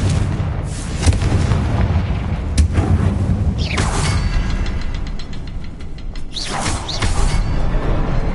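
Confringo spell explosions in the video game Hogwarts Legacy: loud, booming blasts with crackling bursts and whooshing magical effects, several hits in succession over a dense, rumbling game soundscape.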